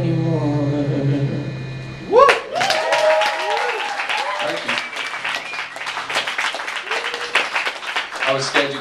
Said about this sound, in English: I was scared you guys weren't going to clap